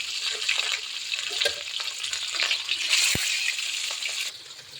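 Marinated catla fish pieces sizzling in hot oil, a continuous close crackle with bursts of spattering and a brief utensil knock, no voices.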